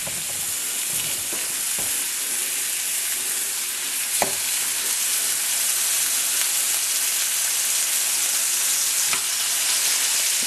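Seasoned hamburger steak frying in a pan: a loud, steady sizzle that runs the whole time, with a few faint scrapes and pops and no voices.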